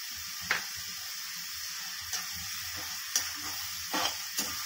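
Garlic sizzles in hot oil in a pan for tomato thokku, a steady soft frying hiss broken by a few brief spoon or stirring clinks, close and fairly quiet with no voices.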